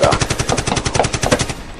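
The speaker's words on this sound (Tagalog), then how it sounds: "Iti kanal, ti pagtataudan ti putok ti paltog." Rapid automatic gunfire in a TV drama scene, a steady stream of close, loud bursts fired without pause.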